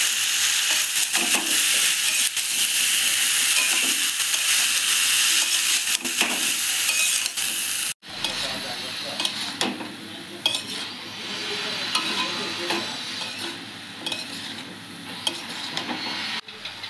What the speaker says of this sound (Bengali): পাঁচ মিনিটের মতো আমি ভালো করে কষিয়ে নেব